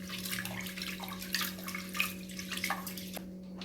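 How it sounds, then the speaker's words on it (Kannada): Red boiled rice being washed in water, with repeated sloshing, swishing splashes in short bursts over a steady low hum. "ಈಗ ಅದಕ್ಕೆ ನೀರು ಹಾಕಿ 2ರಿಂದ 3 ಸಲ ಚೆನ್ನಾಗಿ ತೊಳಿಬೇಕು."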